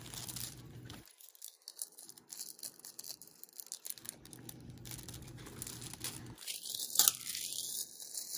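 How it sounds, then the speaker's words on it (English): Plastic shrink wrap being torn and peeled off an Addams Family 2 DVD case, with crinkling and ripping sounds coming in several close bursts and a sharp crackle near the end. "Aiden's going to unwrap it for us. Get all that plastic wrap off of there."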